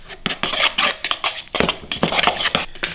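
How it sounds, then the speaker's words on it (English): A cheesy stuffing mixture for bacon-wrapped stuffed peppers is stirred in a bowl, giving close, loud, repeated scraping and clinking of a utensil against the dish in quick strokes. "Give it a little stir here."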